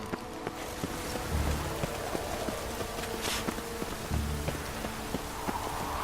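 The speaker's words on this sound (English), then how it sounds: "Witches have conjured rain." Steady rain in The Witcher 3: Wild Hunt, a constant hiss of drops falling on surfaces with scattered soft knocks and footstep-like taps underneath, even and moderately loud throughout.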